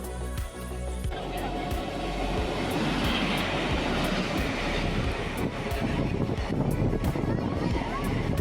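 A train rumbles and rattles steadily close by in Kerala, India, with clicking wheels and a constant roar throughout.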